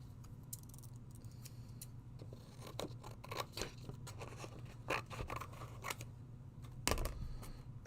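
Scissors snipping through paper in a series of close, crisp cuts, irregular in pace with short pauses between clusters of snips, plus light handling rustle.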